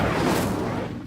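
Incendio fire spell in Hogwarts Legacy, a dense roaring burst of flame that fades slightly toward the end, loud and close, about a second long with no speech.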